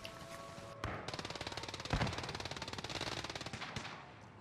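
Rapid automatic gunfire in Call of Duty Warzone on Rebirth Island, long bursts of fast shots with a heavier blast midway, fairly quiet and steady with no talk over it.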